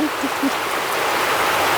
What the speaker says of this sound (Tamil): இப்படி மழை அடிச்சு பெய்யுது